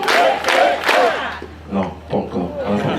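A crowd at a joint celebration ceremony shouts and cheers loudly in repeated bursts, with voices rising together and some clapping mixed underneath, close and lively.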